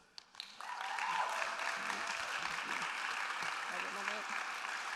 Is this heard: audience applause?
yes